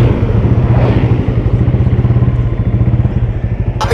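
A bored-up, fully modified Yamaha Vixion motorcycle engine runs steadily and loudly, with a rapid rhythmic chug as it rides along on a touring trip, close and continuous.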